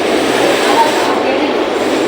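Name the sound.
train arriving at station, Mumbai local train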